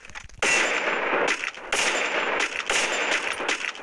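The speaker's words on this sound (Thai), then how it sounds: "กดปุ่มยิงซ้ายแล้วก็ยิง" Gunfire in the mobile shooter Free Fire, with a few loud, sustained bursts of shots separated by short gaps and a metallic, ringing edge, close and upfront with no talking.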